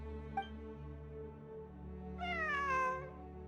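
A cat meows inside the Genshin Impact video game, one clear drawn-out meow over a steady low ambient drone, with a short faint chirp just before it.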